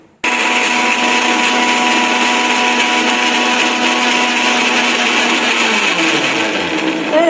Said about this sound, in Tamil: இப்போ இதில் வந்து செட் பண்ணிவிட்டு அரைச்சிட்டு காட்டுறேன்.